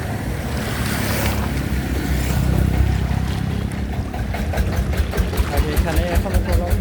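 Trawler boats at a river ghat by Bilaspur bazaar produce a steady engine rumble mixed with washing water, turning into a rhythmic throbbing pulse toward the end.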